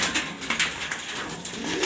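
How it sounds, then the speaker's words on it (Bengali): A male pigeon coos in a loft, its soft, throaty calls repeating in a steady rhythm at close range, with no talking over them. "এটা একটা নর কবুতর।"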